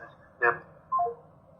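Two brief telephone keypad tones, about half a second apart, come from a call-in line on a live religious question-and-answer broadcast. They sound faint and electronic, with a soft background hum between them.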